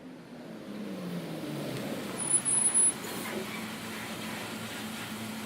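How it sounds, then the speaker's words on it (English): A low, steady bus engine drone in a video game, rumbling continuously with a brief louder swell midway. "The sound of an engine brought me back to reality."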